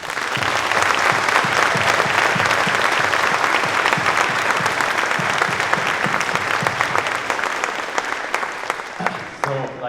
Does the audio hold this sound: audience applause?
yes